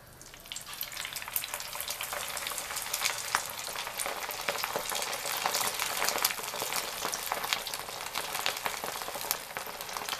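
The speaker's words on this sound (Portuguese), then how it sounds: "E vamos fritar todos agora e mostrar o resultado da nossa receita." Kibbeh deep-frying in hot oil, a steady dense sizzle with crackling pops throughout, close and fairly loud with no talking.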